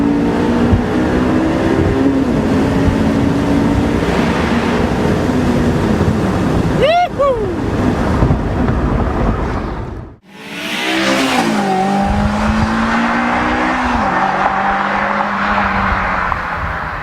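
A Honda S2000 sports car engine roars and revs loudly in a tunnel, echoing, with a brief sharp rise on a downshift from fourth to third, a sudden near-silent dip, then the engine building again.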